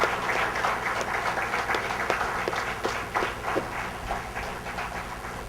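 Conference audience applauding for an organiser, a dense sustained patter of many hands clapping at moderate distance, steady then easing slightly toward the end, with faint murmuring underneath.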